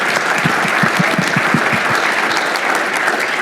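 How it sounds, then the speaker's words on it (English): Loud, dense audience applause at a tech conference keynote panel, a steady wash of many hands clapping close by, with a few sharper individual claps standing out early on. "Let's just give them one more round of applause for all their keynotes."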